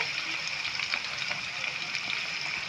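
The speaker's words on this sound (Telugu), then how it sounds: "ఉల్లిగడ్డ ఉంది కదా కొంచెం గోల్డెన్ ఫ్రై వచ్చేంత వరకు ఈ విధంగా వేయించుకోవాలి" Thinly chopped onions frying in a pan after green chillies, for a Gujarati-style sev tomato curry; a steady, even sizzle holds throughout without pause, close and moderately loud.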